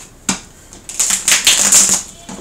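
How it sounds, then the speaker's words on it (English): Crisp, close papery riffling of tarot cards being shuffled, in short bursts with brief gaps, the flurries growing busier toward the end. "Give it a few shuffles until I feel content with that."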